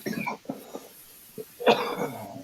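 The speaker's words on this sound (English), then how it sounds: "I'm gonna cough like a motherfucker." A person coughs several times in short, throaty bursts, followed by a louder harsh cough and hoarse exhale, close and indoors.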